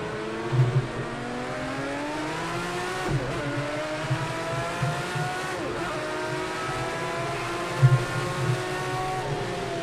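A Group C race car engine in Project CARS 2 at Zolder, droning steadily with rising and falling pitch as it downshifts and accelerates through gears, with brief blips and surges between longer pulls.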